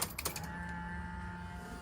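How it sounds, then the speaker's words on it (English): The fuel pump of a Subaru STI primes during a build, a faint steady electric whine preceded by a few quick clicks at the start. "So now we're gonna see if the fuel pump primes."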